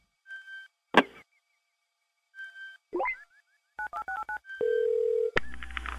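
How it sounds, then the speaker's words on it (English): A random phone dialer punches out DTMF tones in short beeping bursts, with sweeping chirps, a rapid run of keypad tones and then a sustained dial-like tone near the end. "Let's go to the random phone dialer and make some calls."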